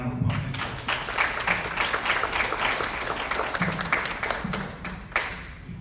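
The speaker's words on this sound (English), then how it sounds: "Let's give him a round of applause." Applause at a school board workshop, a smaller audience clapping in uneven bursts with a few distinct claps and low thumps, a faint voice briefly murmuring underneath.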